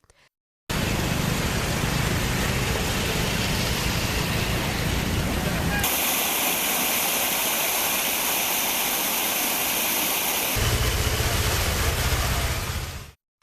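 Floodwater rushes over roads after heavy rain in a Vellore residential area, a loud, steady roar of turbulent water that shifts in texture partway through and continues unbroken, with no voices.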